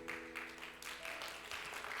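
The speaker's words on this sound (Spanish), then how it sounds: "Así que denle un aplauso a Dios." A church congregation applauds during a Spanish-language service, a short, steady wash of clapping with faint tonal music beneath it.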